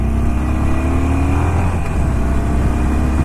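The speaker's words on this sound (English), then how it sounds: "let's just open the Evolution engine out" A 2019 Harley-Davidson Sportster Forty-Eight's Evolution engine revs loud and close as the bike accelerates out of a roundabout, a steady rising drone held throughout without speech.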